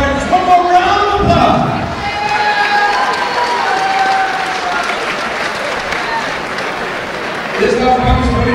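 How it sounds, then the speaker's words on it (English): Audience at a 209 Beatdown XIV fight event applauding and cheering loudly throughout, a dense sustained roar of clapping with crowd voices mixed in. "tonight these two fighters, one more round of"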